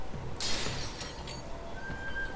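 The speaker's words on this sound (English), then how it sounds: "The sound of breaking glass." Glass shatters in Witch of Steel Annerose, a short bright burst of breaking shards followed by a scattered tinkle of falling pieces over low game background noise.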